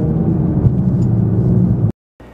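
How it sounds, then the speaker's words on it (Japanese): Porsche 996 GT3 engine and exhaust giving a steady, loud, dense rumble for about two seconds, then cutting off abruptly before a quieter tail resumes. "エグゾーストもいいですね"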